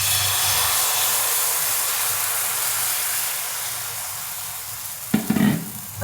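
Ghavan rice batter sizzles on a hot griddle in a loud, continuous hiss that eases slightly over time. Near the end there is a brief clatter of a utensil. Nobody talks.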